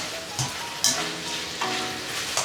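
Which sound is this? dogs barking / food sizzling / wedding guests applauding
food sizzling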